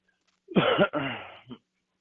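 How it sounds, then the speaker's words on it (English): A close, rough throat-clearing rasp lasts about a second, followed by a short final grunt, with silence before and after. "Clear your throat"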